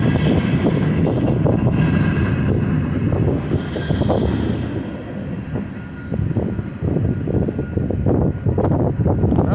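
The tail end of a freight train with flatbed cars rumbles past close by, a dense continuous roar of wheels and rattling cars that eases slightly before swelling again.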